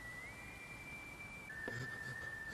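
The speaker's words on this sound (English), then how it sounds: "The fact that you can hear the whistling." A faint, thin whistling tone from the Cowboy Bebop anime, one long steady note that steps down in pitch midway and continues, quiet and alone.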